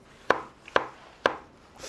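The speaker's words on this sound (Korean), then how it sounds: "이렇게 당근도 썰어주고" A knife chops through carrots on a cutting board with three sharp, evenly spaced strikes, each a crisp thud that fades quickly, close up with no talking.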